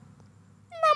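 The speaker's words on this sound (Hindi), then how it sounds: "म्याऊं म्याऊं की आवाज़ होती है।" A single short cat meow rises sharply at the very end after near-quiet, close and loud, in a children's story with a black cat and a white cat.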